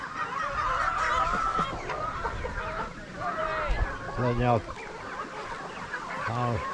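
Flock of chickens at feeding time, a busy chorus of clucks and honking squawks close by, with someone talking over them at points.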